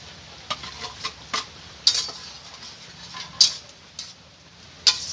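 Fried prawns tipped into a bottle gourd curry in a pan, giving a few sharp clinks of utensil against the pan over a faint, steady simmer, with soft stirring scrapes between the louder knocks.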